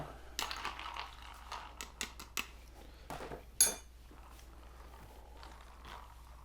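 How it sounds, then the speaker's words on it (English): A spoon stirs a pineapple and coconut pina colada drink in a glass, giving a few faint, quick clinks and scrapes in an otherwise quiet room. "All right, put the pineapple one in, coconut in, give it a stir."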